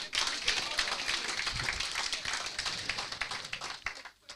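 Audience applause at a general meeting of a professional institute, with a dense wash of clapping filling the hall steadily throughout, fading slightly near the end.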